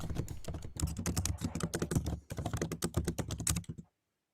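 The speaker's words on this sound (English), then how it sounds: "That's me typing." Rapid clattering keystrokes on a computer keyboard, loud and close, run in dense bursts for about four seconds with a short pause midway, then stop abruptly into silence.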